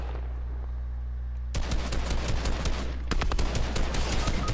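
Rapid gunfire in the video game Fortnite, loud automatic bursts cutting in suddenly over a low steady hum, pausing briefly and then starting again as a dense volley.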